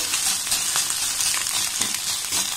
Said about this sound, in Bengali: এবার সমস্ত সবজির সাথে ডিমটাকে আমি খুব ভালোভাবে এইভাবে কষে নেব